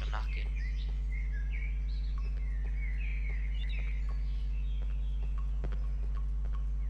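Bird calls in the horror video game Cry of Fear, a series of chirps and warbling tweets that rise and fall over a loud, constant low electrical hum and occasional faint knocks.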